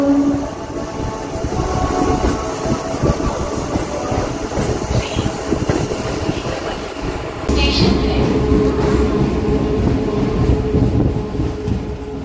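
A 12-coach MEMU train runs near Metpally on the Bodhan to Karimnagar line, heard from inside as a loud, steady rumble with rhythmic wheel clatter and a shift in tone partway through.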